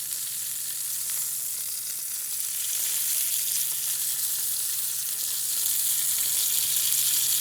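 Top sirloin steaks sear in a hot pan, giving a steady, loud, broadband sizzle and spit that holds evenly throughout and swells slightly toward the end, with no talking.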